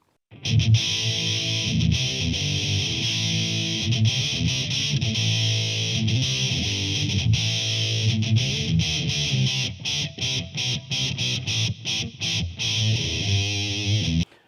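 A heavily distorted electric guitar plays chords and riffs with a hollow, scooped tone, loud and up front, ending in a few choppy strums.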